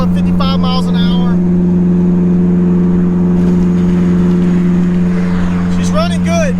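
Steady engine drone from a Mazda Miata turning about 3,000 RPM while cruising near 55 mph on the interstate, a constant loud hum with road noise; a person talks over it briefly near the start and end.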